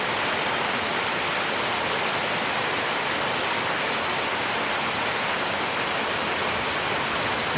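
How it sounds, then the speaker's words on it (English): Steady evening rain falls on a garden during a thunderstorm, a dense and even hiss that runs on without a break and without any voices. "Another rainy evening."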